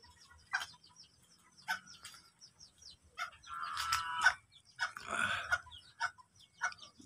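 Ayam Cemani ornamental chickens on a poultry farm cluck in scattered short calls, one louder burst in the middle, fairly close and otherwise quiet.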